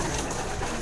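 A racing pigeon in a breeder's loft gives a brief, soft coo, heard up close against a dense, noisy background.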